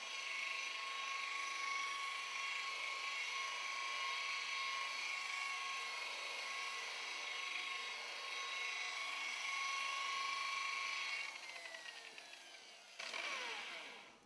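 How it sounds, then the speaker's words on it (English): A buffing wheel loaded with polishing compound works a Harley-Davidson fairing, giving a loud, steady high-pitched whine that holds for a long stretch before wavering and tapering off at the end. "We'll do 2 stages of buff, basically a rougher compound then a finer compound"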